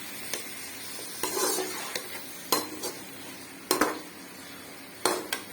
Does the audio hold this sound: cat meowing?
no